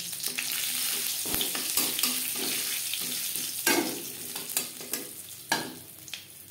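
Whole cumin seeds sizzle and crackle in hot oil in a wok, a steady frying hiss broken by sharp pops and the scrape of stirring, with no voices.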